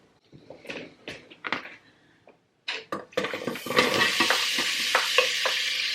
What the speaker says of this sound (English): I am going to saute 1 medium onion and 2 carrots